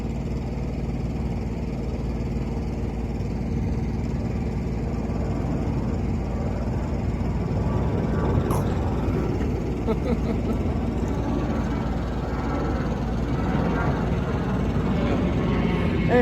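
Distant airplanes climbing out after takeoff from a nearby airport, a low continuous jet rumble rising slightly in the second half, heard outdoors beside a parked truck with steady background hum.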